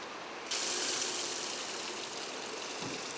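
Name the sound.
water running from a tap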